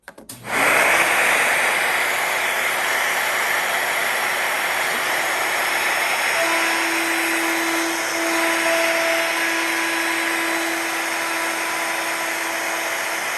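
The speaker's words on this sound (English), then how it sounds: "let's turn the vacuum on. It's going to get loud, it's all right." A DeWalt DCW600 cordless router running with a dust vacuum starts abruptly with a loud, steady machine roar and drones on continuously, a broad whooshing hum with a faint tonal whine, no voices.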